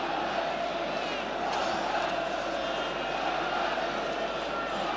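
A large football stadium crowd in 1975 waits for the FA Cup final between West Ham United and Fulham to kick off, making a broad, steady roar and murmur that holds evenly throughout without any sharp cheers.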